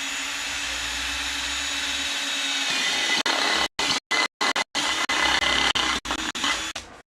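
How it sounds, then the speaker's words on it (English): A step drill bit bores into the top of a metal can, a steady whining grind that cuts out into several short stops and restarts near the end. "I've got a step drill bit. I'm going to drill straight into the top of the can."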